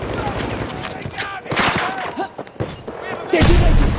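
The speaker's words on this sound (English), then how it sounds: "So I like this mortar pod, man." Mortar pod shells firing and landing in Battlefield 2042, heard as a dense run of booms and thuds with a heavy blast near the end, while players talk over the action.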